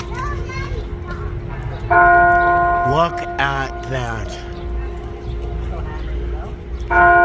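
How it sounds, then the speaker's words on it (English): Monkeys strike a bell, giving bright, sustained ringing tones in two separate bursts, loud and close, while children's voices and nearby talking carry on around it. "The monkeys are hitting the bell."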